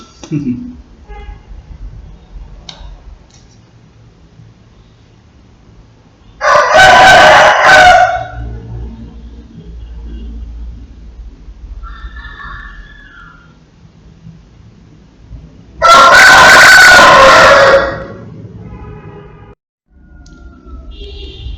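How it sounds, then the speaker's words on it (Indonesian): A rooster crows twice, each a loud burst of a couple of seconds spaced well apart, over quiet background with a voice talking faintly between the calls. "seperti ayam yang berkokok di tempat saya ini"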